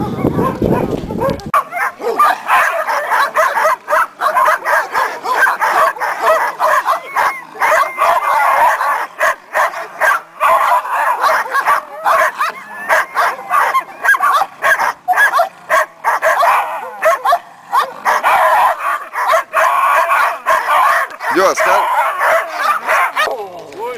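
Several dogs bark and yip continuously outdoors during a barking training session, with overlapping sharp yaps and whimpers close by; a person briefly talks at the start.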